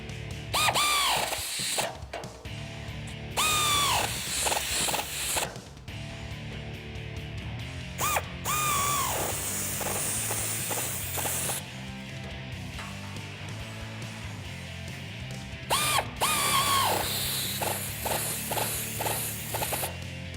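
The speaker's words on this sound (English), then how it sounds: "Next, we're going to tighten these two 13mm bolts on the back of either side of our bull bar." Ratchet tightening 13mm bolts on the back of a black Rough Country bull bar for a 2016-2019 Toyota Tacoma, heard as repeated close bursts of rapid clicking separated by brief pauses and clanks.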